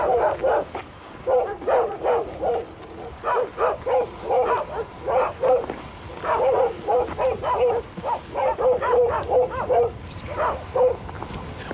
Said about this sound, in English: every dog in Afghanistan is trying to give our location away